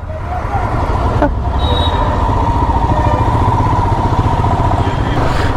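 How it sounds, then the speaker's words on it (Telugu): Dense city traffic jam heard from a motorbike: a steady close roar of engines and road noise with a brief horn-like tone, continuous and loud throughout. "అమ్మా ఫుల్ ట్రాఫిక్ జామ్ ఉంది ఈరోజు"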